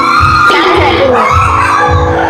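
Excited girl screaming and shrieking loudly in repeated bursts, close and intense, with a raised voice pitching up and down through the whole stretch.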